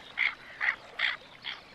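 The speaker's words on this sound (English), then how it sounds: "I can see quite a large group of tufted ducks" Tufted ducks on an urban wetland reservoir give four evenly spaced, rasping calls about half a second apart, moderately close and clear against a quiet background.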